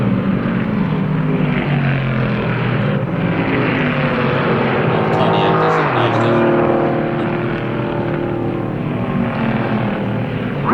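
Stock cars race at speed in the 1959 Daytona 500, with a Thunderbird leading at about 143 miles an hour, making a loud, continuous roar of engines that swells and fades slightly as the pack passes, with no pauses.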